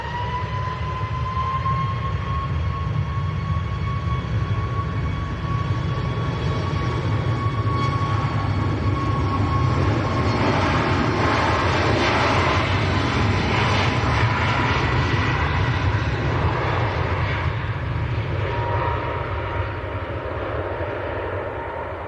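A Ryanair airliner on its takeoff roll at Manchester Airport, heard as a loud, sustained jet engine roar with a rising whine that swells in the middle and slowly fades.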